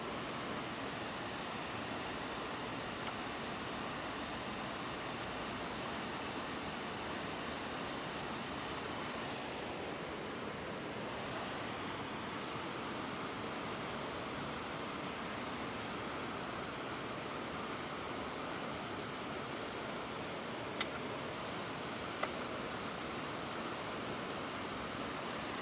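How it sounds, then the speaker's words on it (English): A waterfall near rocks in Highgate, Vermont pours in a steady broadband rush, a constant even wash of water at moderate level, with a couple of brief faint clicks near the end. "sporadic noise of the waterfall."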